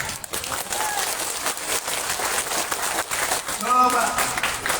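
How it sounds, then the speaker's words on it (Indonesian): Audience applause at a Nahdlatul Wathan regional assembly in Dompu, a steady crowd clapping throughout with a brief voice rising near the end. "Tepuk tangan."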